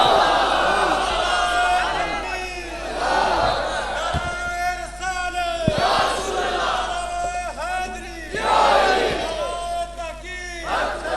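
A large crowd at a religious sermon gathering chants slogans in loud, rhythmic unison bursts that surge and fade over and over, with voices blending into a continuous roar.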